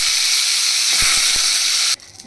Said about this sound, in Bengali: এবার আমি মাছের মাথাগুলোকে ভালো করে ভেজে নেব।